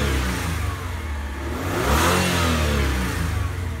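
A Mitsubishi Shogun Elegance 3.5-litre V6 runs outside, having just warmed up. It drones steadily and close, swelling briefly in a mild rev around the midpoint, with no talking.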